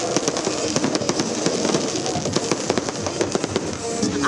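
A New Year fireworks display crackles and pops densely and continuously, with rapid bursts of firecracker-like reports heard from a moderate distance and no talking.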